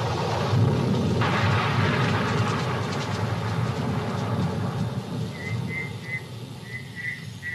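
Heavy rain pours steadily while deep thunder rumbles through a fierce African storm; a few faint, high calls sound near the end.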